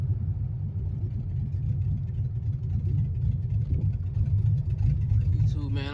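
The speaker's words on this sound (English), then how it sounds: "As y'all can see, the car is driving under its own power." An LS-swapped Chevy Malibu with 3.73 gears rumbles along under its own power, a deep, steady engine drone close by with talk over it and a rising whine near the end.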